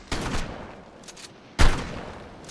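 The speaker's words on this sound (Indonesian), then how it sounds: "Tembak pakai shotgun aja lah." Shotgun fired in the video game ARK Survival Ascended, two sharp blasts about a second and a half apart, the second louder, close and punchy over low game ambience.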